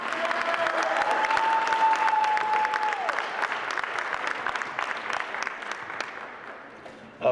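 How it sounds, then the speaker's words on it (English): An audience at a tribute and college commitment evening claps steadily and loudly for about seven seconds, with a few sustained tones drifting over it early on, before the applause thins out toward the end. "How about giving the reason we're here tonight a big round of applause real quick?"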